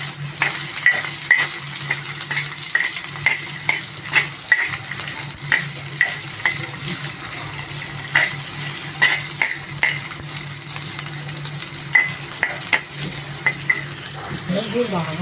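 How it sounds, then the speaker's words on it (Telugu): Filling for egg chicken rolls frying in a pan, loud sizzling with frequent scraping and clinking as it is stirred, the spoon tapping the pan in an uneven rhythm, no talk. "బాగా ఫ్రై కావాలి."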